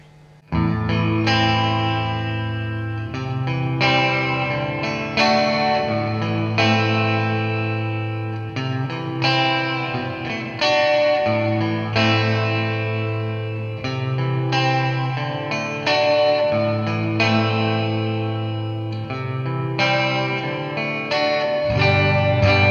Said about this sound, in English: Let's go to the church setting, which has the biggest echo and is also the brightest in terms of tone.